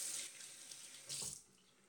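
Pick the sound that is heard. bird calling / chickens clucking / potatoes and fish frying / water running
water running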